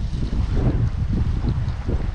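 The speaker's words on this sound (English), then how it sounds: "It's too windy out here." Steady, loud wind buffeting the microphone, a continuous low rumble with gusty surges, outdoors on a fishing pier near water in Antioch, California.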